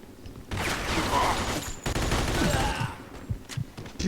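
Gunfire in the Mafia 2 video game, a dense burst of shots lasting several seconds, with some talk faintly underneath.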